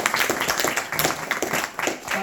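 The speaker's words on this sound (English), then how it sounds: "Please give a round of applause to Sneha Mataji and Manoj Prabhu." Audience applause fills a devotional Bhagavad Gita study gathering, a steady wash of many hands clapping at once, close and fairly loud, with faint voices mixed in.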